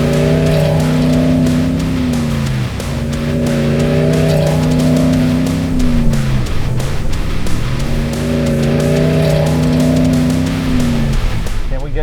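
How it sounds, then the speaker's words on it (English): A 2026 RAM 1500 Warlock pickup with a HEMI V8 spins a donut in dirt in two-wheel drive with the rear locker engaged, engine droning loud and steady while its pitch rises and falls through the slide. "We get to do a donut in the dirt. 2-wheel drive, rear locker engaged."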